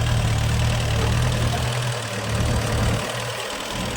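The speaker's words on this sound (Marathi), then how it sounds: "तुम्ही बघू शकता तिकडून आणणारा ट्रॅक्टर असा आलेला आहे वरती" A farm tractor hauling water uphill in a village runs with a steady, close, low engine rumble and a rough idling knock throughout, with no voices.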